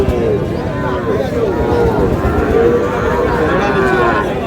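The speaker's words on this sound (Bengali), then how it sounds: "এখানে একটু গরু দেখছেন" Cattle moo repeatedly and loudly at a busy Shariatpur market selling young bull calves and heifers, the low drawn-out calls rising over a steady murmur of crowd chatter.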